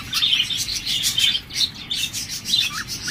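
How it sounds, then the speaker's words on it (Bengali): A pair of large lutino red-eye budgerigars chirping in a cage, with bright, busy, overlapping tweets and chatter, close and fairly loud, in continuous bursts and no talking. "বাজরিকার পাখি, লুটিনো রেড আই, চমৎকার বিগ সাইজের রানিং এই পেয়ার জোড়া"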